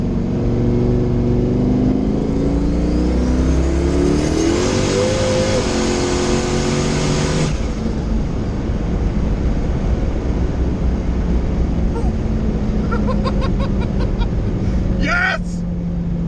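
A tuned, very fast car accelerates hard with engine roar rising through the gears, loud and close from inside the cabin, before the sound drops off into road and cabin noise while people talk excitedly.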